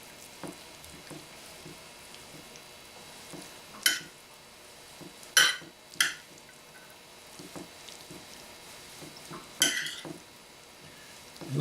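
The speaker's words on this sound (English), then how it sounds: "And now we take our wasabi sauce and add and mix that to the pasta" Wasabi sauce is stirred into pasta with a utensil, producing soft wet stirring noises punctuated by a few sharp, isolated clinks against the pan or bowl over roughly ten seconds.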